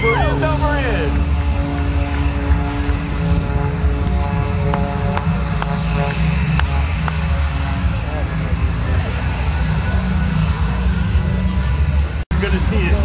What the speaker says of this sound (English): Tumbling that airplane end over end over end.